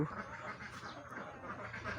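Laying ducks quack on a farm, soft overlapping calls from a flock at a distance, with faint background noise.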